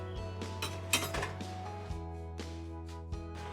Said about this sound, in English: Just give that a stir